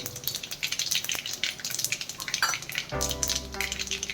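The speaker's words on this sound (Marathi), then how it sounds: "चला तर आता आपण चिवड्यासाठी फोडणी करूया मोहरी टाकलेली आहे" Mustard seeds sizzle and crackle in hot oil as tempering for chivda, with quick popping spatters over a steady frying hiss.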